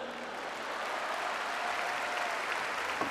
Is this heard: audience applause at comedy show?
yes